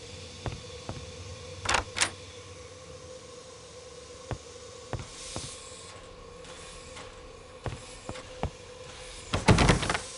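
A locked train compartment door on the Orient Express in an Agatha Christie game rattles in a few short, sharp clacks and thumps over a steady low hum in a quiet, stationary carriage.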